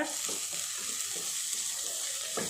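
Ginger garlic paste frying in a pan for an aloo green peas curry gives a steady close sizzle, with soft scrapes of stirring rising over it now and then.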